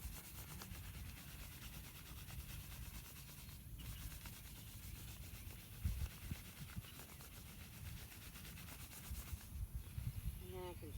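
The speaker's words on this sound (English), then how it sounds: "I'm just going to rub it with my hand." Hand rubbing wet wool felt during wet felting, a soft continuous swishing friction, faint and close, with slight surges in intensity.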